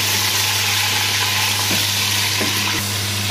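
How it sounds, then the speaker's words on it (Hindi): Chicken fries with garlic in a pan for an arvi chicken curry, a steady loud sizzle with light stirring clicks and scrapes, close by and uninterrupted by speech. "इसे लहसुन के साथ फ्राई कर लेंगे।"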